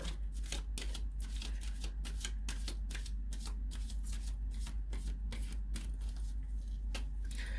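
Tarot cards being shuffled and drawn make a quick run of crisp riffling flicks and slaps, close and fairly quiet over a low steady hum, with no talk.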